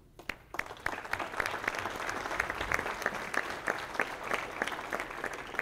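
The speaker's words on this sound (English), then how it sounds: "So they definitely deserve a big round of applause for all their accomplishments for this year." A banquet audience honoring baseball and softball teams breaks into steady, dense applause, many hands clapping continuously at moderate volume for the whole stretch.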